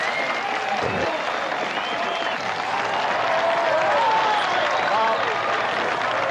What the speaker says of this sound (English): The clapping, the whole bit.